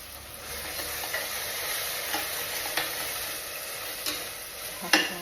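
Spices crackle and sizzle in hot oil, close up, with small irregular pops and spatters over a steady frying hiss.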